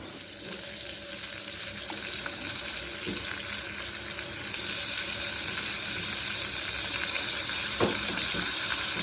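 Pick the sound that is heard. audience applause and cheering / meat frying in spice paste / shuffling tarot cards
meat frying in spice paste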